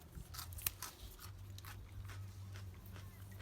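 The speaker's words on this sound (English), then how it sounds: "Listen to that crunch." Fresh snow peas picked from a winter garden being bitten and chewed close up: a series of soft, crisp crunches and clicks over a faint low outdoor hum.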